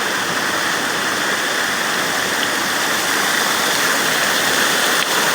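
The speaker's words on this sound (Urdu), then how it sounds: "یہاں پانی بہتے دور سے" Water pouring at Salarzai Garang dam in Bajaur, a loud, steady, broadband rush of falling and flowing water, close and unbroken from start to end.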